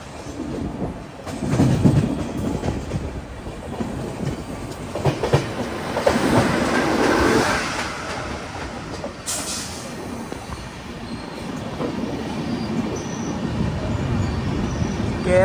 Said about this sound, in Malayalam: ഇവിടെ ഒരു ട്രെയിൻ ഉണ്ട്, എറണാകുളം ടാറ്റാ നഗർ എക്സ്പ്രസ്